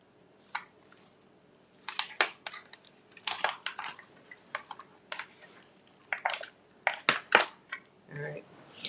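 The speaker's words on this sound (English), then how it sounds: "I'm trying to get the ice cube, the coconut cream cubes out of here" Frozen coconut cream cubes being pried and knocked out of a tray in a kitchen, giving scattered clacks, cracks and plastic snaps at varying loudness, with occasional faint squishy sounds.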